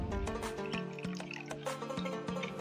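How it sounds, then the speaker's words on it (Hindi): Water is poured into a bowl of whisked yogurt for chaat, giving faint, close liquid splashes and drips in an irregular rhythm over a quiet kitchen background. "यहाँ थोड़ा सा पानी ऐड कर देंगे"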